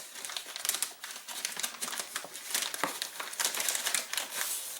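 Wax paper crinkles and rustles steadily as a handgun with a six-inch barrel is wrapped in it for rust protection, a close, continuous crackling with brief louder crunches and no talking.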